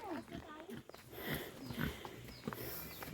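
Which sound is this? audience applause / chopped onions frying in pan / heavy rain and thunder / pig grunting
pig grunting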